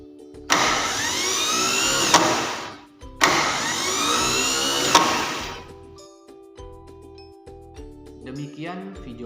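A conventional car starter motor is bench-tested with battery cables, spinning up in two loud whirring bursts of roughly two seconds each, separated by a brief pause, then quieter clicking and handling noise.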